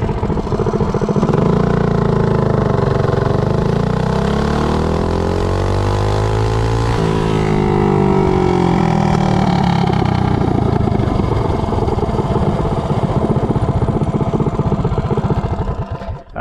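A go-kart powered by a Predator 212 engine with a Hemi head revs up hard from a standstill to 30 mph, its loud, close engine note climbing steadily through the run and staying strong until it eases off.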